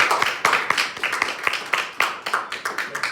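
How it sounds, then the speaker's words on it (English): Scattered audience clapping at a lecture on the 13th Amendment, uneven individual hand claps close by rather than a dense wash, continuing in loose rhythm. "More round of applause."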